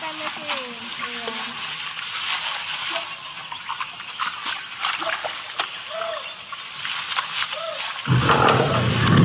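A tiger roars from a played video, its growling roar swelling across the clip amid splashy, noisy background, with a louder burst near the end; voices may be faintly present.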